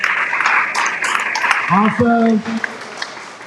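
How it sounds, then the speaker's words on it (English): Applause from an audience at a commercial real estate networking event: a dense wash of clapping under a presenter's voice, fading out after about two seconds as the talking continues. "Give them a round of applause."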